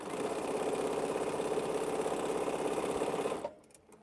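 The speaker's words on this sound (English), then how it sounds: "And sew top and bottom together," Sewing machine stitching quilt blocks, a steady rapid mechanical whir running loud and close for about three and a half seconds before stopping abruptly, leaving near silence.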